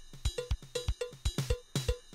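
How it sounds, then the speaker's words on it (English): A programmed drum beat with steady punchy kicks and a bright ride cymbal pinging on the offbeat eighth notes in a quick, even groove. "So now the ride cymbal is playing on the offbeat 8th note."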